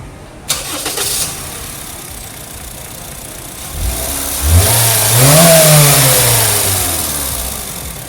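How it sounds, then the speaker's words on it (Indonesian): A Honda Freed Hybrid engine cranks and catches, settles briefly, then revs up with a rising whine before easing back toward idle, close by with no talking. "sekarang kita pengen denger dulu suara mesinnya, foot on the brake. Yuk kita startup dulu."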